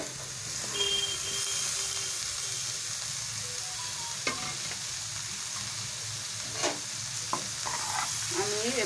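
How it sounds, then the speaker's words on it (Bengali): Chopped bottle gourd goes into a pan of cooked spiced masala for a Bengali gourd-and-prawn curry, with a steady close sizzle and occasional sharp spatula scrapes and clicks as it is stirred. "এবারে আমি এর মধ্যে কেটে রাখা লাউটা আমি দিয়ে দিচ্ছি।"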